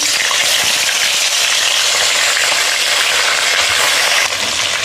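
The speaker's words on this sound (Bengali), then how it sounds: "এখন নুন হলুদ মাখিয়ে ভেজে নেব।" Bhola fish pieces rubbed with turmeric and salt fry in hot oil, giving a loud, steady, close sizzle that hisses without a break for the whole stretch, with no talking over it.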